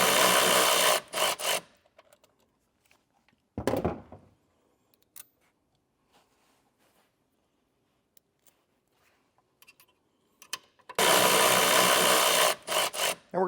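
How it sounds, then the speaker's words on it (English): Tightening a factory ground bolt on a 2019 Mitsubishi with a 10mm socket gives loud close rasping ratchet bursts at the start, one in the middle and more at the end, with near silence between. "So we're just going to put this in line with that bolt and get it tightened back down."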